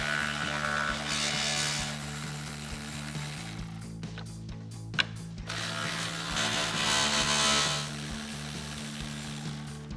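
Hand ratchet backing bolts off the support brackets of a 2019-2024 RAM 1500, a steady, close clicking of the pawl in quick runs, with a short pause and a sharp knock midway before the clicking starts again.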